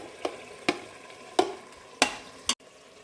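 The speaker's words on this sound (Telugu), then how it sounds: "ఇప్పుడు టమాటో బాగా వేగింది" Tomatoes fry in a pan for vegetable pulav, giving a soft steady sizzle broken by five sharp scraping stirs at roughly even intervals, close and moderately loud, with no voices.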